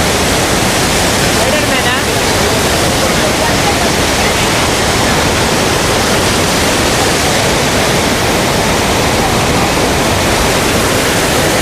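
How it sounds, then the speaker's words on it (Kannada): A waterfall in Coorg pours with a loud, steady roar of rushing water that fills the whole scene and never lets up. "ವಾಟರ್ ಫಾಲು ಅಲ್ಲಿಂದ ನೀರು ಬರ್ತಾಯಿದೆ ನೋಡಿ."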